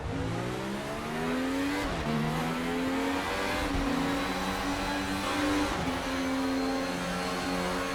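A 1995 DTM touring car at the Norisring in the RaceRoom sim, engine droning loud and steady with pitch dropping in several repeated dips as it brakes hard into corners.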